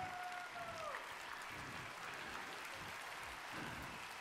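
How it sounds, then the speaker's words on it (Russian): Faint, distant applause from a talent show final audience, a steady patter of clapping that lasts throughout, with a brief whistle-like tone at the start. "Ваши бурные аплодисменты"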